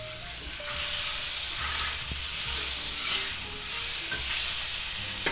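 A chuck steak pan sizzles loudly and steadily in a cast iron skillet while a utensil scrapes and stirs the browned bits off the bottom, with no talk.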